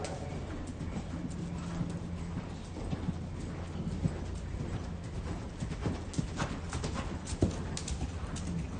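Horse hoofbeats at a riding clinic, a steady even clip-clop under a rider, moderately close and continuous over a low rumble of background noise.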